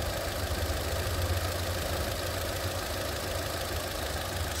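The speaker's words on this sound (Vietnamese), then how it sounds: "Máy đổ rất êm này." A 2009 car with a twin-cam, variable-valve EcoTech engine and six-speed automatic, idling steadily as a smooth, even low hum with no gaps.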